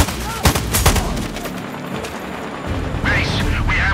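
Nearby gunfire in the tactical shooter Sniper: Ghost Warrior Contracts 2: a few sharp, loud shots crack in the first second, followed by mechanical clatter, low rumble and brief in-game radio voices toward the end.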